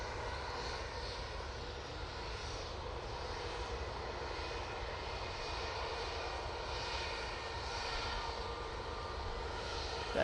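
KLM airliner coming in to land at an airport, a continuous broad jet-engine roar that holds steady for about ten seconds, distant and fairly faint with no voices.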